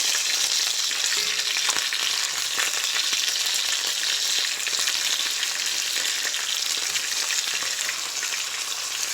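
Chicken pieces for chicken with olives and lemon fry in a cook pot, giving a steady, dense hiss and crackle of hot oil that continues evenly throughout, close and loud, with no voices.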